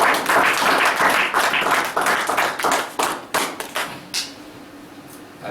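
A church congregation applauds in acclamation of the Lord, a dense burst of many hands clapping loudly, then thinning to scattered claps and fading out.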